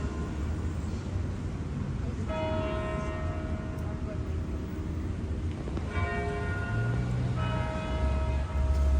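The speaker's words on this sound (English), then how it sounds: "Sounds like two buddies working at two separate churches are just ringing their bells back and forth" Bells from two separate churches ring back and forth outdoors, their tones entering in bursts around a third of the way in and again near the end, fairly distant over steady ambient noise and low rumble.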